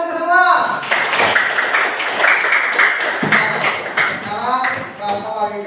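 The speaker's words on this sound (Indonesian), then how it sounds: "Tepuk tangan untuk semua." Students in an elementary school classroom clapping for their classmates' presentations, a close, bright burst of uneven claps lasting a few seconds, with children's voices and a teacher's speech running over it.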